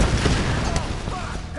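Explosion and gunfire-like bursts from the 2013 Tomb Raider video game, a dense, loud rumbling blast sustained across the whole moment with crackling debris, with talking mixed in underneath.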